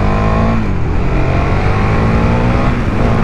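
A 2022 KTM 1290 Super Duke GT motorcycle accelerating hard, its engine roaring loud and close in one steady, continuous rising drone with no talk over it.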